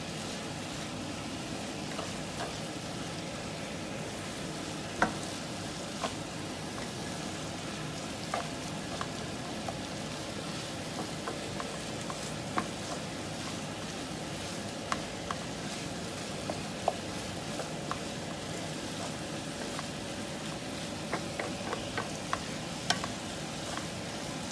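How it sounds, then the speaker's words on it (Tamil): Fried chilli paneer stir-frying in a pan, a steady, close crackling sizzle that continues evenly throughout with occasional sharp pops and spatters. "ஆல்ரெடி பொரிச்சு வச்ச சில்லி பன்னீர் போடுவோம்."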